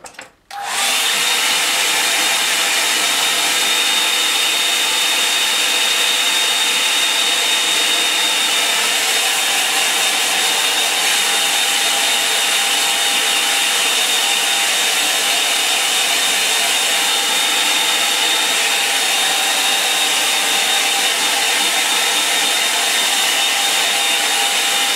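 Hair dryer blowing steadily on a wet-in-wet watercolor landscape painting, a loud continuous whooshing roar that starts abruptly and holds unbroken, close to the microphone with no talk.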